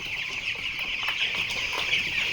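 A flock of about 800 fourteen-day-old broiler chickens cluck and chirp together in a steady chorus, close by, with occasional louder squawks rising above the flock.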